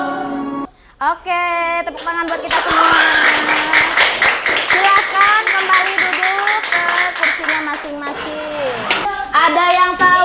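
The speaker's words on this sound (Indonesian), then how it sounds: "tepuk tangan buat kita semua" Children's applause in a primary school classroom, a long burst of brisk, dense clapping close by, with young voices calling out before and after and chatter over the clapping.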